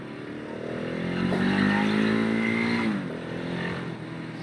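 A 2018 KTM 690 Enduro R motorcycle engine revs up with a rising, throaty drone, climbing in pitch before easing off, loud and close with no talking.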